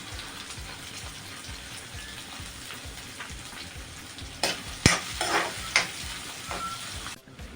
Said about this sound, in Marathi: आता आपल्याला त्यामध्ये कांदा टाकून घ्यायचा आहे कांदा पण तेलामध्ये नरम व्हायला द्यायचा आहे